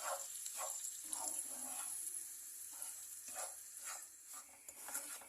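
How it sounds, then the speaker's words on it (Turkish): Steady sizzling hiss of semolina roasting in a hot pan, with soft scraping of stirring repeating at intervals, close and fairly quiet, no voices. "Kokusu çıkana kadar 3-5 dakika kavuracağım."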